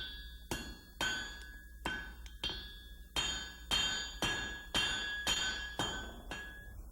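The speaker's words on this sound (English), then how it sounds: "Now the blade can be drawn out by flattening it on the anvil." A heated steel blade is hammered flat on an anvil, about a dozen sharp ringing metallic strikes in an uneven rhythm, each leaving a bright ring that decays, close and clear with no talk.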